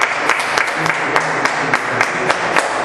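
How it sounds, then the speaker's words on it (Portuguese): A church congregation claps during a worship service in praise of God, a dense, steady round of applause heard up close from start to finish. "Que as palmas louve a Deus, aleluia."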